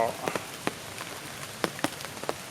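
Rain falls at a waterfall in Ban Na district, Nakhon Nayok: a soft steady wash of drops with scattered louder close drip taps, and no clear speech.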